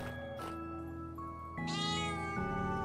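Cats meowing indoors, a couple of drawn-out tonal meows close to the microphone over a steady music bed, with no talking.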